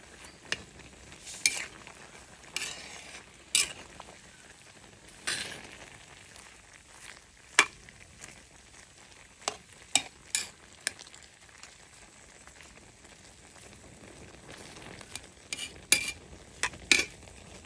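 Laing of fresh taro leaves simmering in a pan is stirred and turned, with soft scattered scrapes and clinks of the utensil against the pan over a faint low bubbling, quiet and close.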